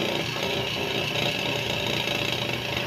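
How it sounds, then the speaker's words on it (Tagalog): A Haier washing machine's new spin-dry motor runs on bench power, a loud steady whirring hum with a rough mechanical buzz, close and continuous. "Malakas yung ikot ng ating motor."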